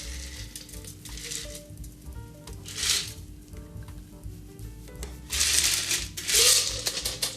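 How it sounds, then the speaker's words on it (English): Banana daiquiri is double strained into a rocks glass over a large rock of ice, with several short splashing, crackling bursts of liquid hitting ice against a quiet background. "and double strain over the ice."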